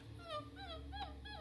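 A voice imitates a puppy begging for food, a string of high, wavering whimpers and yips in quick succession, close and fairly quiet.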